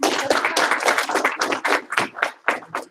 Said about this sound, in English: Give him 1 clap, 2 claps